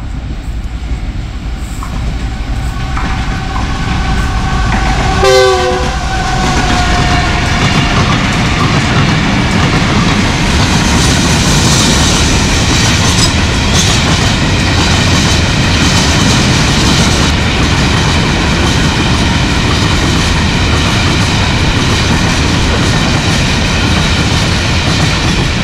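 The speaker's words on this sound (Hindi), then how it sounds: "पचास किलोमीटर फी घंटा के हिसाब से जिमपीर यार्ड में से गुजर गई है एक एम्प्टी फ्रेट ट्रेन।" An empty freight train rolls through Jhimpir yard in Pakistan at about 50 km/h, giving a loud, steady rumble and clatter of wheels on rail that lasts the whole stretch, with a brief horn-like tone early on.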